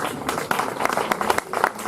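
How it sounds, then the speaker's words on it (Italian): A small audience at a 2019 poetry reading in Atzara applauds a poet coming up to read. There is a short burst of close, uneven hand clapping. "Un applauso a Vanna Sanciu."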